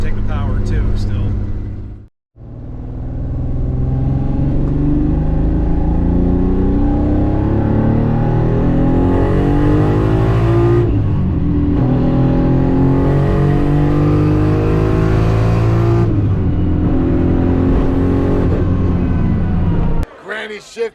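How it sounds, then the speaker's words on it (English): A turbocharged car accelerates hard under boost on a test drive, its engine loud and close as it climbs in pitch through the gears, with short dips at each shift and speech over it. "we can go lean on it a little bit and get it in boost and make sure she can take the power too still"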